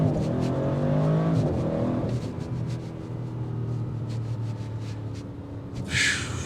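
A 2025 Audi RS6 Avant Performance wagon accelerates hard. A loud engine roar climbs through the gears with audible upshift breaks, then settles into a steady high-speed drone with a brief burst of noise near the end.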